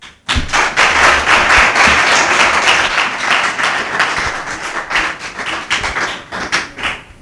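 A seminar audience breaks into applause after a brief pause, with dense, lively clapping that holds steady and then thins and tapers toward the end.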